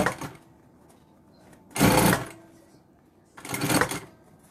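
Sewing machine stitching a fabric bag, three short whirring bursts of running stitches with quiet pauses between, close and fairly loud.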